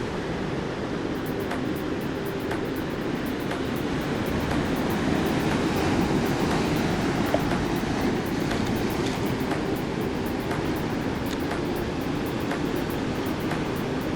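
Ocean waves wash continuously onto a shore, a broad, steady roar of surf with no breaks or voices, fairly loud throughout.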